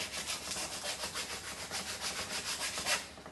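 Sandpaper rubs back and forth along a wooden spoon handle clamped in a vise, a close, quiet rasp in quick, even strokes repeating about a dozen times without pause.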